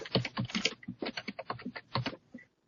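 Rapid typing on a computer keyboard, a close string of crisp key clicks in an uneven rhythm lasting a couple of seconds, heard alone without talk.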